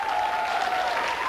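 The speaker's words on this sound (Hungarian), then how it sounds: "Tehát nagy tapsot," A brief burst of dense, steady applause from an audience, loud and continuous, with no talk over it.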